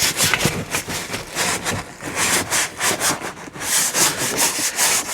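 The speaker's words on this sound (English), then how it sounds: "I take a nice stiff bristle brush, get in here, and I mean, I hit every freaking angle" A stiff bristle brush scrubs mold off the engine parts of a supercharged stroker Mustang GT: brisk, close, rhythmic scratchy strokes that keep going steadily without pause, with no speech.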